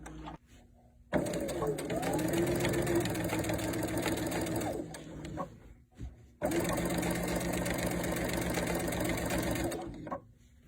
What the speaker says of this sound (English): we're just gonna start sewing and stitch down the edge of your binding just like normal